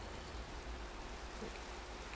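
Rain falling in the video game Minecraft, a steady, even hiss of dense rainfall with no breaks, fairly faint and with no voices over it.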